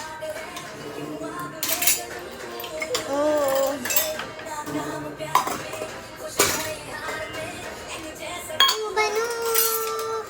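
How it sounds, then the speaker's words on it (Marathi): Metal idli plates being handled and stacked, giving bright ringing clinks and clatters at close range, with tonal music playing throughout the background. "इडली डोसा भेटतात ना ते वाले प्लेट आहेत वाटतं."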